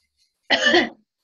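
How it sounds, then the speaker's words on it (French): A single short, sharp cough comes close by out of silence during a medical examination. "Vous allez tousser."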